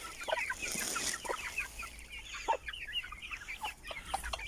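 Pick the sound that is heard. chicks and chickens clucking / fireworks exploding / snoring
chicks and chickens clucking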